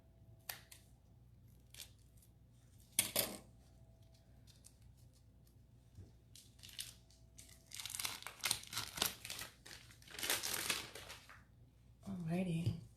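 Scissors snipping off the end of a package while making rum snap cookies: a sharp close cut followed by bursts of crinkling and tearing of packaging.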